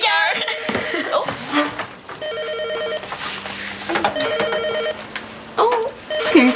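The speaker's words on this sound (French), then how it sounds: "Allô, Mickaël" A telephone rings repeatedly in a home setting, a series of evenly spaced electronic trills that are fairly loud and close, with voices speaking between and over the rings.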